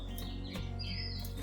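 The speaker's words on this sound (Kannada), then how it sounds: "ಗುಡ್ ಲಕ್ ಬರ್ಡ್ ಅಂತ ಕರಿತೀವಿ ನಾವು ಅದಕ್ಕೆ" A kembattu, known locally as the good luck bird, gives a few faint, thin chirps at a distance over a steady low hum of background noise.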